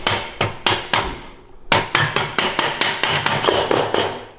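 A bolt hammered through a mini bike support, sharp metallic strikes in a steady series of about a dozen blows with a brief pause near the start, close and loud with no talk.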